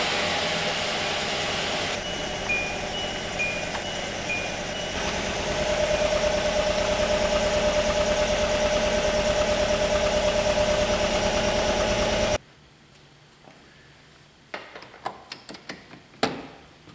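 A Kia Rio with a manual transmission idles roughly with a misfire, a steady close engine rumble with faint ticking for about twelve seconds before it cuts off, followed by quieter scattered clicks and handling noises.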